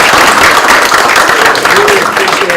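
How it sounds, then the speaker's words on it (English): Seminar audience applauding panelists after a marketing session, a dense burst of many hands clapping at close range, steady throughout, with faint voices mixed in. "please join me in giving a round of applause to our panelists"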